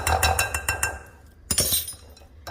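A utensil clinks against a bowl while a tuna and potato patty mixture with cornstarch is stirred, in quick bright taps at first, then a pause and a few sharper knocks.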